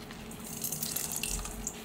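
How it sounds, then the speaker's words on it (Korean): Water drips and trickles as cucumber and pickled carrot are squeezed by hand, quiet and close with soft splashes throughout. "오이하고 절여놓은 당근하고 이제 짤 거예요"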